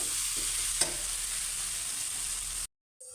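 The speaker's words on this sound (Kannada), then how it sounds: "ಎಲ್ಲ ಮಸಾಲೆ ಹಾಕಿ ಮಸಾಲ ಮಿಕ್ಸ್ ಮಾಡಿ" Spiced masala for tomato biryani stirred and frying in a pan, a steady sizzle with a single scrape of the spoon, ending in a brief pause.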